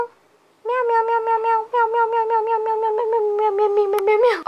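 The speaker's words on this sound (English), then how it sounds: "Check out my cat." Domestic cat meowing loudly and close, a long drawn-out insistent yowl with rapid pulsing tone that breaks briefly and resumes, rising to a strained cry at the end, heard alone indoors.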